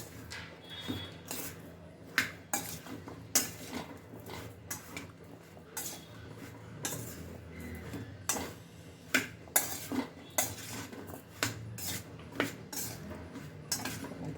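Carrot pickle being mixed with lemon juice and spices, likely with a spoon in a bowl, giving irregular clinks and scrapes of cutlery against the dish over a low background hum.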